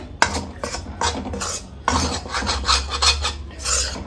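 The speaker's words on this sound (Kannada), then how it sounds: "ಕೈ ಬಿಡದೆ ಒಂದು ಮೂವತ್ತು ನಿಮಿಷ ಆದ್ರೂ ಫ್ರೈ ಮಾಡ್ಕೋಬೇಕು" Milk powder mixture for Dharwad peda being stirred and fried in a pan, with repeated close, loud scraping strokes of a spoon against the metal in an uneven rhythm, and no one speaking.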